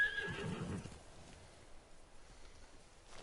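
A horse in the video game Ghost of Tsushima lets out a loud, close whinny that fades within a second, followed by faint low background rumble.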